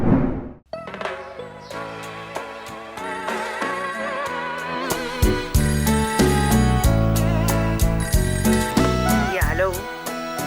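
A telephone ring sounds out over a busy broadcast music bed, bright repeated tones cutting through dense instrumental backing at moderate loudness throughout.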